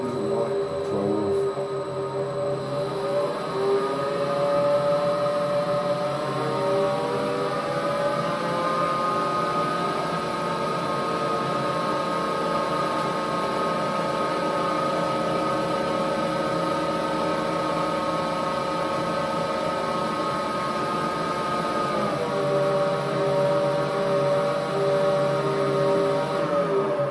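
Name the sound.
metal lathe running with the gearbox disengaged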